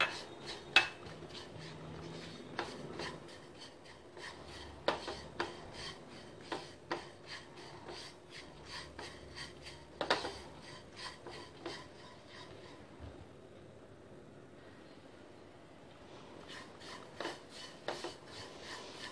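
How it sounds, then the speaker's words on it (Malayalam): Two tablespoons of semolina roasting in a teaspoon of ghee for rava payasam, heard as soft, close scraping and clinking of a spoon against the pan at an irregular pace, quiet overall and without talk. "അതിലേക്ക് നമുക്ക് എടുത്തു വെച്ചിരിക്കുന്ന 2 ടേബിൾ സ്പൂൺ റവ ചെറുതായിട്ട് റോസ്റ്റ് ചെയ്തെടുക്കാം."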